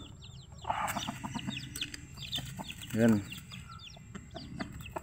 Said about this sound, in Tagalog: ito yung barako ng mga manok ko